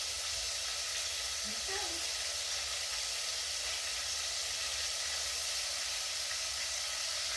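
Pork fingers frying in oil, a constant broad hiss and sizzle filling the background while a voice briefly speaks once.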